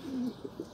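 Pigeons coo in a clean balcony breeding coop in Bergama, Turkey: a sustained low coo followed by three short, rhythmic coo pulses, close and moderately loud, with no talking.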